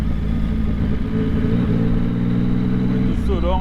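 A motorcycle engine hums steadily close by as the bike pulls away, its low drone constant with a slight rise in pitch near the end.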